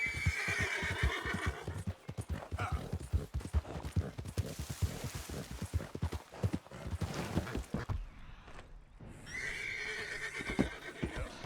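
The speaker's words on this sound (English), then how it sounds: "We've got a 5-minute horse ride ahead of us." A horse galloping in Red Dead Redemption 2, with rapid, close clip-clopping hooves and a loud whinny at the start and again near the end.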